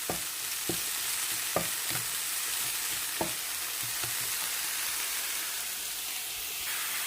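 Pork and vegetables stir-fried in a pan for homemade udon, with a steady loud sizzle and a few sharp clacks of a utensil scraping the pan, and no voices.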